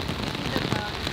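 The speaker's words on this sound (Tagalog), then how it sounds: "nabot tayo ng ulan" Rain falls steadily, making a dense, even hiss and patter close by that continues without a break.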